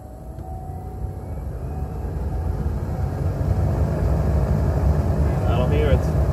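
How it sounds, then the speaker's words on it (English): Dashboard blower motor fan of a Chevrolet Equinox runs on high speed, a steady broadband whoosh that swells gradually louder through the clip. "I'm gonna turn on the ignition and start the fan and see if we're gonna get any vibration in the dashboard on high speed."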